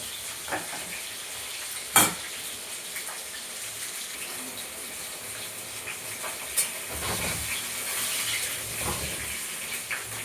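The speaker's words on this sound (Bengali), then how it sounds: "মাছগুলো নেড়ে ভেজেছি, কড়া ভাজা ভেজেছি।" Fish frying hard in oil in a kadai, a steady sizzling hiss with occasional stirring clatters and sharper spatters, close and continuous throughout.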